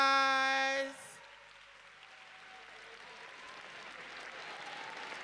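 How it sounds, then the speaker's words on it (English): After a held tonal note cuts off, ballroom crowd applause rises from faint to fuller, a wash of distant clapping building steadily across the hall. "Give, give the back a round of applause."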